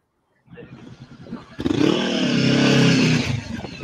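An engine idles with low putters, then a motorcycle revs up sharply and holds a loud, throaty roar close by.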